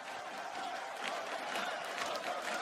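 Esports arena crowd at IEM Katowice 2019 during a Counter-Strike quarter final with NiP fans, a steady wash of cheering and applause heard at a moderate distance.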